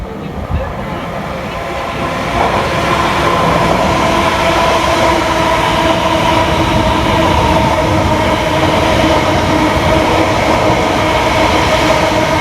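A Greater Anglia passenger train from Clacton-on-Sea to London Liverpool Street runs along the fast line of the Great Eastern Main Line, a loud steady rumble and rail roar that builds after two seconds and holds close by, with no talk.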